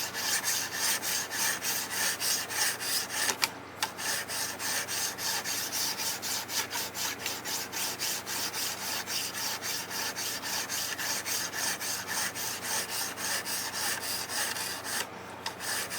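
A knife blade rasps back and forth across the stone of a Ruixin Pro sharpener to remove scratches, steady rhythmic close strokes of grinding friction for the whole stretch, with two brief pauses.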